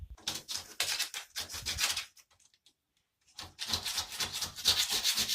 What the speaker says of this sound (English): It's so heavy I can scrape it.